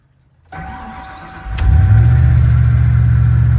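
A Ford F-150 pickup engine cranks and catches, then settles into a steady, loud, low rumble close by, with an electrical hum just before the start and no talking.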